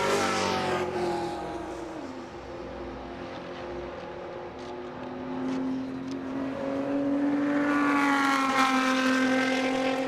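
A time attack race car pushes hard into turn one at Road Atlanta, its engine droning loudly, shifting pitch as it brakes and then rising again as it accelerates away, with no voices.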